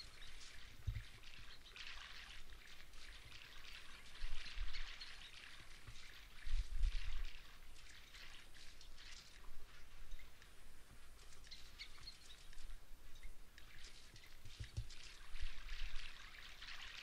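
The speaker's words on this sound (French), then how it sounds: "Il pleut." Rain falls steadily in the Baldur's Gate video game, a soft hiss and trickle of water. Occasional bird chirps sound through it, and the whole scene stays quiet.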